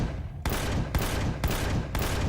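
Gunfire in Empyrion: Galactic Survival, four loud, evenly spaced blasts about half a second apart, each a sharp broadband crack with a short decay, close and with no talking.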